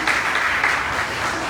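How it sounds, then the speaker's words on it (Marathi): A church congregation claps to welcome a pastor, a brief, even burst of many hands applauding at close range. "टाळ्या वाजवून आपण त्यांचं स्वागत करूया"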